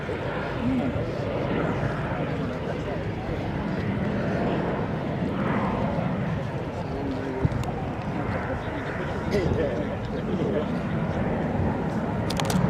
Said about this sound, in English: Carriage coming down, flaps coming down, aircraft flying at 90 knots